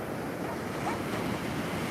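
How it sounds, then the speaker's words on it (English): Ocean surf breaking on the beach at Half Moon Bay, a steady roar of washing water with some wind buffeting, continuous and fairly loud with no speech. "look at the waves coming"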